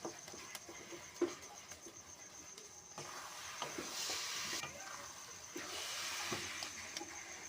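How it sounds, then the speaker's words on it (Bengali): Sugar syrup for coconut naru bubbling in a pan on low flame, a soft continuous sizzle with scattered small pops and occasional stirring scrapes, quiet and close. "জলটা আমি লো ফ্লেমে রেখেই আস্তে আস্তে জলটাকে টানিয়ে নেব"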